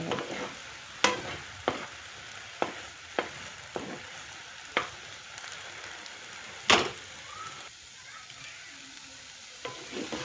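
Leafy greens fry in a pan with a steady hiss, while a spoon or spatula stirs them, scraping the metal in sharp, irregular knocks about once a second, one of them louder.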